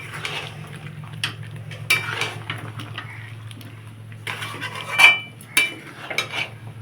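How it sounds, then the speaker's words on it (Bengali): Chicken and garam masala being stir-fried in a pot, with sharp metal spatula clinks and scrapes against the pot over a low, steady background hum. "তো চলো ভাই কষাই এটাতে"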